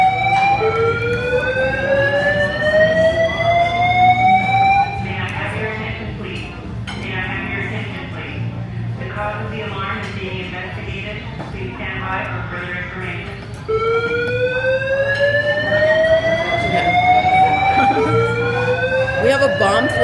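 A loud building alarm in a restaurant at the 1941 El Cortez, sounding as repeated rising siren-like whoops in bursts with a steadier electronic tone between, continuous for the whole stretch over background noise and occasional voices.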